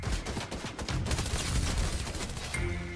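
Rapid, dense gunfire from a video game battle with treasure-hunting players, overlapping bursts and volleys packed close together, loud and continuous for the whole stretch with a brief lull near the end.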